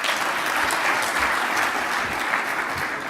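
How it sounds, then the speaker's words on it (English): An audience applauds after a talk on education technology, dense steady clapping from a large crowd at even loudness, with no voices. "Please give him another round of applause."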